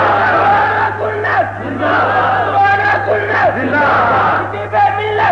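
A large crowd at a 1985 religious gathering in Begum Kot, Lahore, chants slogans in loud, rhythmic unison, the voices rising and falling in repeated bursts over a steady electrical hum.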